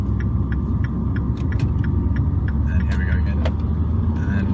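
A Porsche 911 Turbo S engine rumbles steadily from inside the car as it accelerates along a road, with ticking clicks over the drone and some faint talk.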